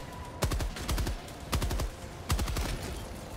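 A turret fires at the player in Helldivers 2, three distinct loud bursts of rapid automatic shots separated by short pauses, each burst a quick rattling string of cracks.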